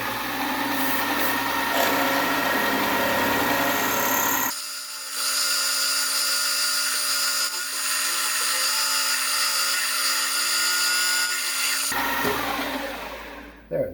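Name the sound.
drill drilling a hole in a laser table knob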